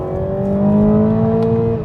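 A 2020 Toyota Supra with the 2.0 engine accelerates while driving, its steady rising engine drone loud and close inside the car, with no talking.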